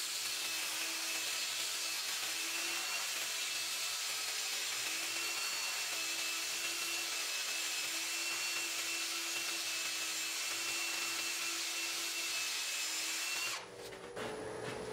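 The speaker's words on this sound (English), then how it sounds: "now we're going to sand this up" Steady, high-pitched whirring of sanding against wood spinning on a lathe, continuous and close, cutting off abruptly near the end.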